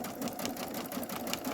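A sewing machine stitches fabric for a quilted embellishment project, with a steady rapid mechanical whir and pulse close by.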